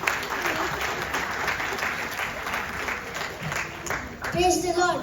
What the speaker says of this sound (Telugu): గట్టిగా అండి చప్పట్లు